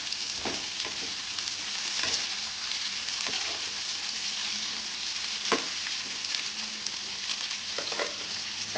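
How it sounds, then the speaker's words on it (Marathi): Sliced onion sizzles steadily in hot oil for a dhaba-style shev bhaji gravy, a constant close frying hiss with a few faint stirring knocks and no talking. "तर इथं आता आपलं तेल तापलेलं आहे तर आपण याच्यामध्ये कांदा घालून घेऊयात"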